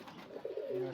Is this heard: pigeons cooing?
yes